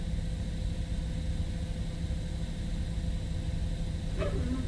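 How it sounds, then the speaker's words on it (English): Citation X business jet engine spooling during start in Microsoft Flight Simulator, a steady broadband turbine roar with faint whining tones, continuous and unchanging throughout. "Number 2 stabilized, starting engine number 1 now."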